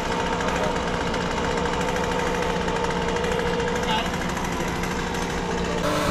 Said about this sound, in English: we had to use the old pole saw here to hopefully finish up the job